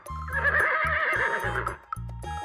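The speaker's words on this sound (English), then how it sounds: "Wow, horses say neigh." A horse neighing: a loud, close whinny with a wavering pitch that lasts over a second, set over rhythmic thumping music.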